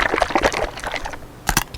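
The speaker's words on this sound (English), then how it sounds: "I'm pouring it into my feeding bag." Liquid diet food poured into a feeding bag, a close, wet splashing pour with a few brief bursts near the end.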